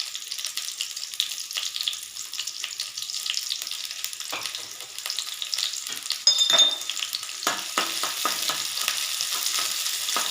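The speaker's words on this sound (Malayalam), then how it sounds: "എണ്ണ ഒഴിച്ചിട്ട് നമുക്ക് ഇനി ഉള്ളി തൂമിക്കാം കേട്ടോ." Onions hiss and crackle in hot oil for a Kerala-style pomfret curry, starting as a soft sizzle and growing louder and busier with sharp pops near the end.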